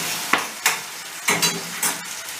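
Peppers for menemen frying in a pan, stirred in several short scraping strokes that rise over a steady soft sizzle, close and fairly loud, with no talking.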